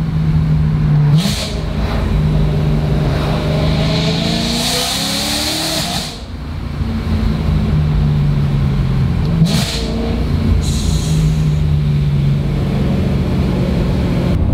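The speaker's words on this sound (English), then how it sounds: "You guys can probably hear that this thing is not stock from the exhaust standpoint as well." A supercharged BMW E92 M3 fitted with test pipes, an X pipe and an M Performance exhaust, revving loudly with raspy rises and falls, a distinct dip midway, then climbing again.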